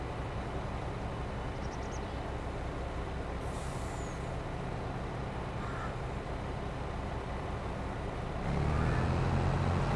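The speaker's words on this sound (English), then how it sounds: "So the truck is backing up." A truck reversing from a combine during a wheat harvest in Farming Simulator 22, a steady engine drone under field machinery rumble with a faint high beep, swelling louder toward the end.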